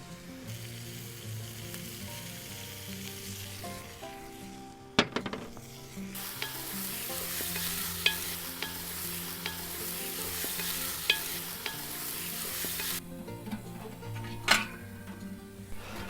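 Beef hits a very hot oiled pot over a fire pit, bursting into a loud, steady sizzle that runs throughout, with scrapes and clinks of stirring and a couple of sharp knocks against the pot.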